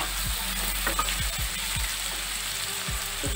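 Chilli chicken with slit green chillies frying lightly in a pan gives a close, steady sizzle, broken by several quick utensil scrapes.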